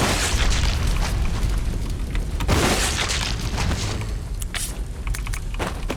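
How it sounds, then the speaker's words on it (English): Shotgun blasts ring out against zombies in Resident Evil 0's train section, several loud booming shots with sharp bursts scattered across a dense, continuous game soundscape. "With Billy, we'll go ahead and just take some of these guys out with the shotgun."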